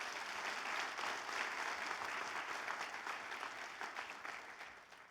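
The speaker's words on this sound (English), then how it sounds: "give them a round of applause." Audience applause at a Latino and immigrant California Senate candidate forum: a dense, sustained wash of many hands clapping that stays steady for about five seconds and fades slightly at the end.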